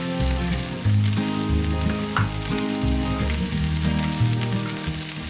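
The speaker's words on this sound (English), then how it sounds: "And let that fry for 2 or 3 minutes until the cabbage is tender." Liver and cabbage fry in one pot, seasoned with garlic powder and paprika, giving a steady, close crackling sizzle with soft stirring clatter throughout and no talking.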